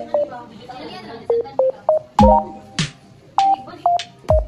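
Cellphone keypad dialing tones, a series of short, clear beeps in an irregular rhythm, each a distinct pitch, mixed with a few louder bursts of other sounds between them.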